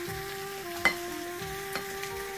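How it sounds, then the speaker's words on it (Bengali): Rice fries in a pan with coriander leaves, giving a steady sizzle with a couple of sharp spatula scrapes against the pan, close and alone with no talk. "এখন ধনে পাতা দিয়ে দিচ্ছি, এটা অনেকক্ষণ ভাজলাম হয়ে গিয়েছে, নামিয়ে ফেলবো।"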